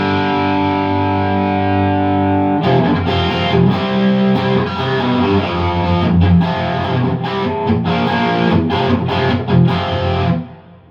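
Distorted electric guitar playing through a dirty amp on a Harley Benton Fusion-III HSS with the bridge pickup in split-coil mode, strummed chords and riffs ringing loud and close, with a steady hum beneath.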